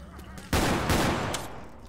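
Gunshots in Left 4 Dead 2, a sudden loud burst of rapid gunfire starting partway through and decaying over about a second, close and dense against steady game ambience.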